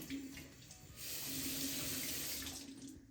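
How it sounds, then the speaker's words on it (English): Tap water runs steadily into a sink while a sweet potato is rinsed under it, a continuous close splashing rush that swells louder after the first second and eases slightly near the end. "You'll just go ahead, just wash the potato a little."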